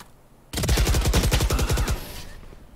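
A fast string of loud gunshots in Valorant, about a dozen sharp rounds fired in quick succession for over a second, then a fading tail into quiet.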